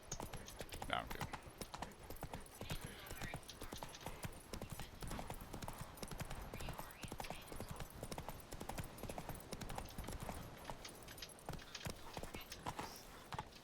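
Roach the horse trots in a video game, dense rhythmic hoofbeats clopping continuously and fairly close, with a soft whinny early on and a voice speaking over part of it.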